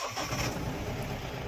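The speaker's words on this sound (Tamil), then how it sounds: "வண்டியை ஸ்டார்ட் பண்ணி காமிக்கணுமா?" A 2022 Mahindra Bolero Maxi Truck Plus mini truck diesel engine cranks and catches, then settles into a steady, loud rumble close by, with no voices.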